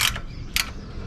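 A ball joint nut on a 1999–2007 Chevy/GMC Silverado binds on its last threads as a wrench turns it, the whole ball stud spinning along, giving two short, close metallic ratcheting bursts with quiet between.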